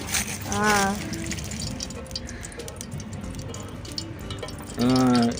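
A drink is poured into a glass at a New Year's Eve gathering, a soft, steady liquid trickle between two short bursts of nearby voices.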